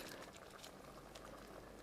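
Chocolate-flavored pork sauce bubbles steadily in a pan, a dense, even simmering hiss with soft pops throughout, close and moderately loud with no talking.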